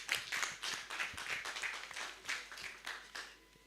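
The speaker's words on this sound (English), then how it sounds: "A round of applause for Charles." Audience at an HR event applauding a speaker, steady fairly faint clapping from many hands throughout, tapering slightly at the end with no voices.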